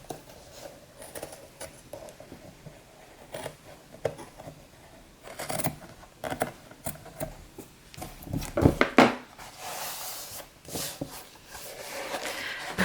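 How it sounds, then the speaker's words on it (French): Scissors snip off excess material during a boho wedding scrapbook album project. The cuts come as scattered, fairly close snips with paper rustling between them, a cluster in the middle and a louder burst toward the end. "Je vais couper tout ce qu'il y a en trop."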